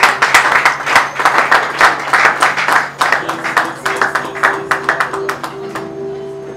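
Wedding guests at a church ceremony break into loud, brisk clapping that thins to scattered claps toward the end, while a voice talks briefly over it.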